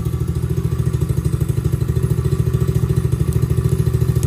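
A small X-Pro Bolt 110cc ATV engine idles close by with a fast, even putter and a low throbbing rumble that holds steady throughout, with no voices over it.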